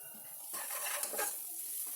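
Spoon stirring turmeric through tomato and boti curry in a pan, a soft scraping swish over a quiet sizzle, close and faint with no talking.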